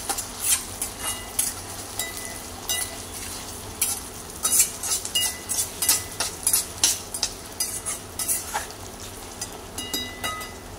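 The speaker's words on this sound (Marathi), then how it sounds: "कांदा भाजत आहे, आता यामध्ये घालूया आपण टोमॅटो। हे सर्व भाजून घेऊया चांगलं।" Onion and tomato frying in a pan for Punjabi rajma, with steady sizzling and repeated scraping strokes of a spoon stirring throughout, close and moderately loud, with no talking.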